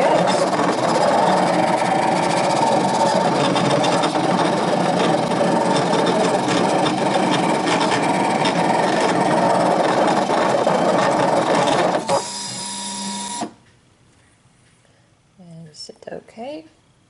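A Brother ScanNCut cutting machine runs steadily for about twelve seconds with a dense mechanical whirring hum, followed by a brief higher tone and then quiet with a few faint motor movements.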